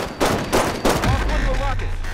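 Rapid gunfire from a DMR in a Halo 5: Guardians Big Team Battle match, a few loud bursts of shots close up with game effects and electronic tones trailing behind.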